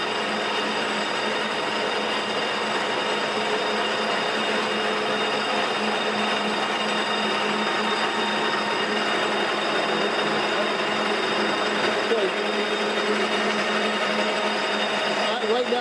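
A Leblond sliding gap bed lathe runs its carriage in rapid traverse, a steady, loud mechanical whir and gear hum that holds unbroken throughout.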